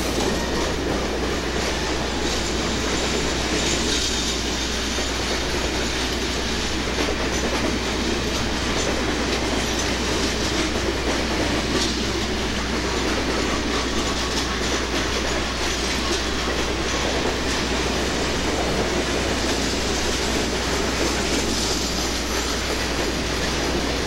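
A Conrail freight train rumbles continuously and loudly close by, running along a street in Warsaw, Indiana, with steady wheel noise and clatter for the whole stretch, no voices.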